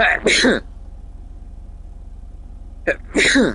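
A person sneezes twice, the sharp bursts coming about three seconds apart with a quiet hum in between, during a casual chat stream about car builds in GTA.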